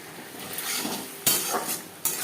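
Stirring spiced tilapia fish curry in a pan over a high gas flame, with steady scraping and clinking of the utensil against the pan, sharpened by two louder knocks, close up and with no talk.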